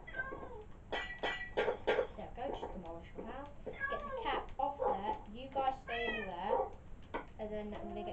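A cat in the block-building video game Minecraft meows in a string of short, wavering cries with brief gaps between them, heard fairly close and mixed with other small game noises.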